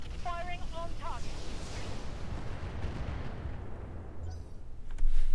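Mech weapons in the Roguetech game fire on a target as a dense, rumbling barrage of blasts and crackling impacts, with a heavier burst near the end and radio-style voice chatter early on.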